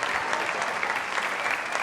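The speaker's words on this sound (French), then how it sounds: "On va l'applaudir très fort, s'il vous plaît." Studio audience applause on a TV show, dense continuous clapping from a large crowd, loud and even throughout with no break.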